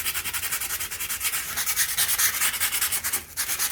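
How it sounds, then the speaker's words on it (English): Sandpaper rubbed by hand over a painted wall covered in old painted-over wallpaper, making fast, steady back-and-forth scratchy strokes close up, with a brief pause near the end and no talking. "I took a piece of sandpaper and I sanded all this like little gritty stuff off"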